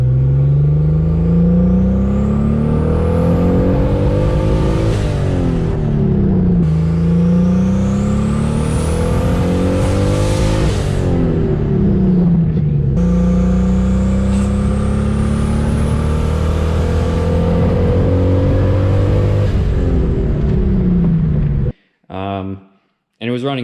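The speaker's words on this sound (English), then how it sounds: "might insert a clip or two here of it boosting" A loud turbocharged BMW E30 engine with an open downpipe revs hard through repeated pulls, pitch climbing then dropping at each gear change, raw and throaty, ending abruptly.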